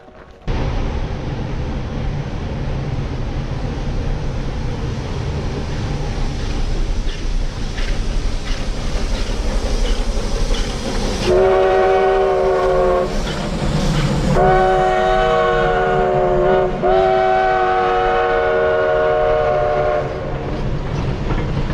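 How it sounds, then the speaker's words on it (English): A train passes near a rail crossing on South Dakota's Centennial Trail, a steady rumble of rolling cars running throughout, with a loud, sustained horn blowing in several long blasts in the second half. "Hear the train whistle, but luckily I don't see him coming."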